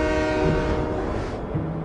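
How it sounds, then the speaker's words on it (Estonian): A train rolls along the rails with a loud, steady rumble and dense rattling, steady tones running through the noise and a slight fade toward the end. "Rong rappub ja loksub, aga igas rattamürinas tunnen lähenevat kodumaad"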